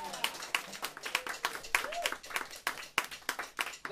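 Applause from a small club audience at a live band show in Kichijoji, a brisk run of distinct, fairly close hand claps in a loose, uneven rhythm.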